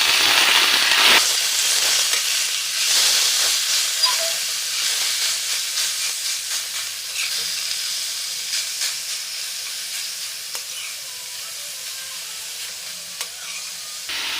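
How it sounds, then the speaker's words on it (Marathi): Chhena for milk cake cooks in a pan, a loud hissing sizzle that slowly settles, with scattered scraping stirs nearby and no talk. "आता आपण छेना पॅनमध्ये टाकूया."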